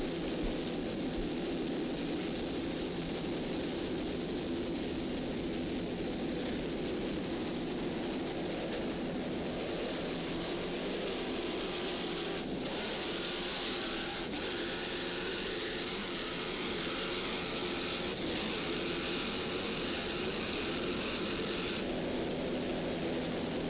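Offshore racing powerboats with a pair of Mercury Racing inboards in a Point Pleasant Grand Prix race, a continuous distant engine drone that swells and fades as the boats pass.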